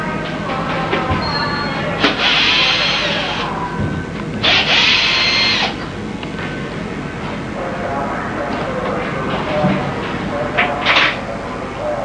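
A power driver backs out small 3/8 inch brass machine screws from the center cover plate of a mortise lock on a multi-point door lock, giving two short whirring bursts and a brief buzz later, under ongoing talk.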